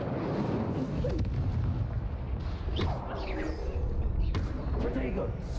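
Incendio fire spells are cast in Hogwarts Legacy, a loud whooshing roar of flames with several bursting, booming blasts over a continuous rumbling background of combat noise.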